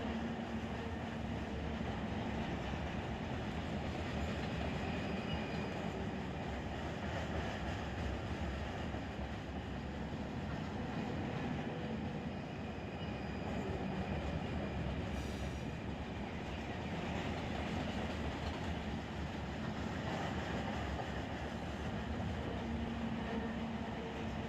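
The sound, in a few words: freight train rolling in Run 8 train simulator video game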